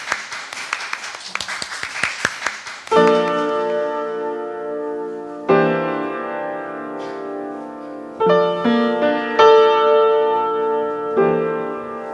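A live audience claps at a stage event in a short burst of scattered, uneven hand claps for about three seconds. Sustained solo piano chords then take over and ring out, loud and near.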